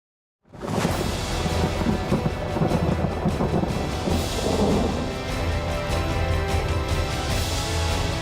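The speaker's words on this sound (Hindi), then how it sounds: "मुंबई के कई इलाकों में बारिश हो रही है।" Steady heavy monsoon rain pours down in Mumbai, a dense continuous hiss with low rumbling beneath, starting abruptly and holding loud and even throughout.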